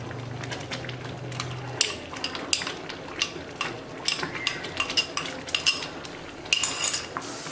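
A metal spoon scrapes and clinks against a pan while stirring samba rava kesari with ghee, producing irregular close tapping and scraping sounds alongside faint sizzling.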